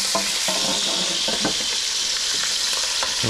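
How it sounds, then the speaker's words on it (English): Beef chunks searing for Texas-style chile con carne, with a steady loud sizzle in a hot pan and light scraping and stirring knocks throughout, no voices. "I think that's good enough as far as our beef searing goes"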